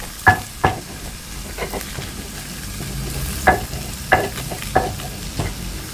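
Fresh fish fry in oil while being flipped, a continuous sizzle broken by several sharp scraping and tapping knocks from the turner, close and moderately loud.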